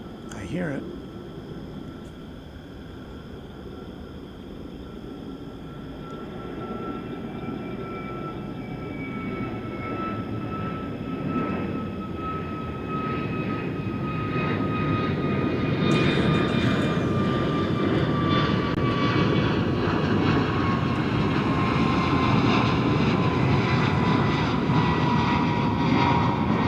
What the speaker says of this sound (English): the MD-11 is taking off now